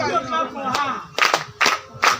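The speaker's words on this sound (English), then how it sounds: "Clap for her again" Clapping from a church congregation during a sermon, a few sharp bursts of hands in the second half following a stretch of talk.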